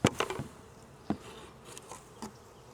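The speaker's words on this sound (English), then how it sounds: "I'm going to just gently tap the bees down to the bottom of the package" A package of honeybees is tapped down: several sharp taps on the box, each followed by a brief burst of buzzing, close and fairly quiet, with a low hum between hits.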